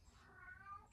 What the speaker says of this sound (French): j'ai mon chat qui est en train de péter un câble